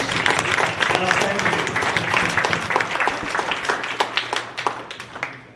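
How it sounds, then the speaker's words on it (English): Audience at a property tax reform meeting applauding veterans, a loud, full round of clapping that continues steadily before thinning out, with some murmured talk underneath. "I'd love to get an applause for all our veterans."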